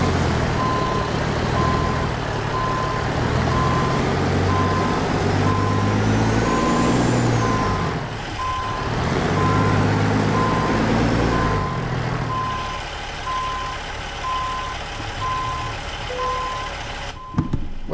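Truck in American Truck Simulator backing up, with steady evenly spaced reversing beeps sounding over a continuous engine drone, then the beeping stops near the end as the engine idles on.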